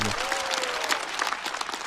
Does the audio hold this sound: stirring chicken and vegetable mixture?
no